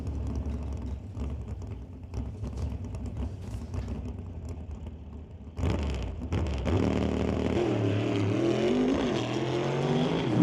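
A Chevy II drag race car launches on its run, the engine rising from a rumbling idle to a loud, surging roar of acceleration that grows closer and more intense.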